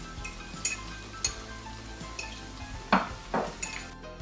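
Coconut-battered chicken frying in a pan at home, a steady sizzle running under occasional loud clinks and scrapes of utensils against pots.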